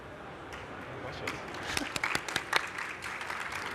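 Audience applause at a conference panel on Web3 wallets, scattered clapping from a modest crowd that builds into a few sharper claps midway before thinning out.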